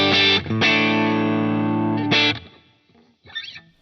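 A heavy-gain distorted electric guitar tone from an HX Stomp rings out loud and sustained in a couple of thick chord strums. It cuts off into a short decay, and a faint scrape follows.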